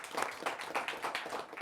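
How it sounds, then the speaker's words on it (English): A small audience at a high school quiz bowl match claps for a team, giving a short burst of moderately loud, slightly uneven applause in a room, with no talking. "Give them a round of applause."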